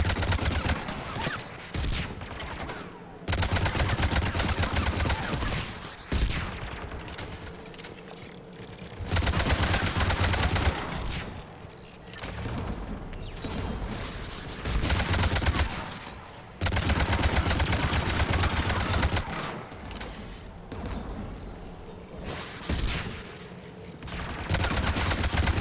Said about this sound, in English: AA gun, dead ahead.